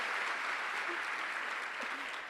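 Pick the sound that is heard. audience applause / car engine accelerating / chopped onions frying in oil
audience applause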